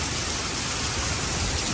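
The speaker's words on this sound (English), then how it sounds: "it just started pouring down rain" Heavy rain pours down over a freshly refinished porch in California, a dense, steady hiss of constant downpour filling the space with no voices.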